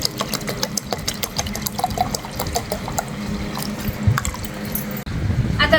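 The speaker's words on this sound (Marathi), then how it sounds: "थंड पाणी केलं होतं ते टाकी ते थोडंसं" Cold water from a refrigerated bottle is poured into a container in a home kitchen, giving a continuous close splashing trickle with small drips throughout, and no talking.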